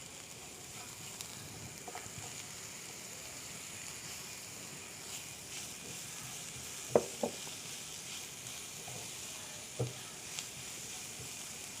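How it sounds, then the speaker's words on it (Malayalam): Chopped tomatoes hit a hot frying pan for chickpea pulao, giving a faint, steady sizzle with a few soft scraping clicks from stirring scattered throughout. "നമുക്കിതിലേക്ക് അരിഞ്ഞു വെച്ചിരിക്കുന്ന തക്കാളി ആഡ് ചെയ്യാം"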